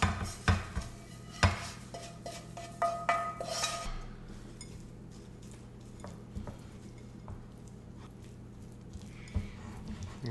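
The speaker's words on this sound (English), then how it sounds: "we're going to go ahead and mix most of the ingredients together, everything except for our tamari" Ingredients for homemade grilled black bean burgers being mixed in a bowl, with a few sharp clinks and scrapes of utensil against the bowl early on, then quieter, softer stirring.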